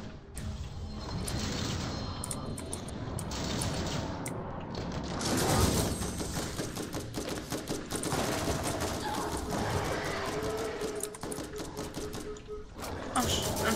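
Rapid automatic bursts from a deployed turret in the shooter Borderlands, a sustained rattling fusillade of gunfire that runs nearly the whole stretch, loud and close, with brief pauses between volleys.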